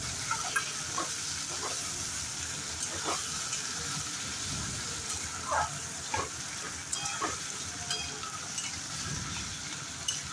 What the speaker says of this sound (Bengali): তো এর মধ্যে দিলাম স্বাদ মতো নুন আর টমেটো কুচি করে রেখেছিলাম, সেই টমেটো কুচি। তো দিয়ে এটাকে ভালো করে একটু নেড়ে চেড়ে নেব।